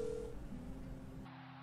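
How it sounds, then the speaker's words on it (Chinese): A mobile phone dials out with a few short tones followed by a steady ringback, faint and close in a quiet room with no voices. "他拿起手机给苏雨打电话，电话被接通"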